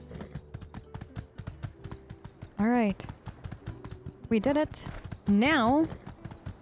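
Horse hooves clip-clop in the video game My Time at Sandrock, a quick steady patter of light taps under game music and wavering synth tones, while a player talks briefly over it.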